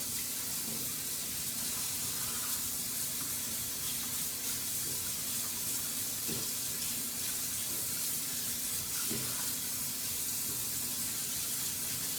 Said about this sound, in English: I'm gonna wash my hands off